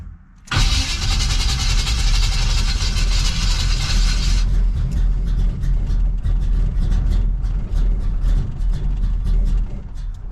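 A fuel-injected car engine cranks and catches abruptly, roaring loudly for a few seconds before settling into a steady, rumbling idle close by.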